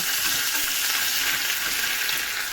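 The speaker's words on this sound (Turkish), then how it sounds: "Şu kenarda da tereyağını kızdırdım." Butter frying in a pan, a loud, steady, close sizzle with dense crackling throughout and no talking.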